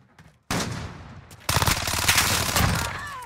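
Fennec submachine gun firing in Modern Warfare 2019, a short burst followed by a longer rapid stream of closely spaced shots, loud and near, with a brief pause between bursts.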